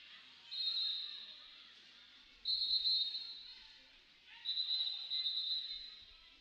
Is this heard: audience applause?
no